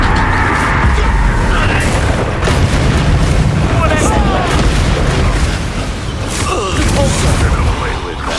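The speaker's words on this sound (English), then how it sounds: "Confringo!" Confringo blasting spells go off in a Harry Potter video game battle, with loud booming explosions and crackling magical bursts over dense combat noise and a voiced character shout.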